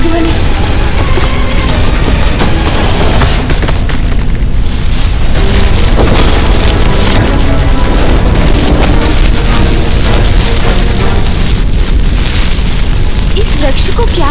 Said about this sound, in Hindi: ये कैसी गड़गड़ाहट हुई?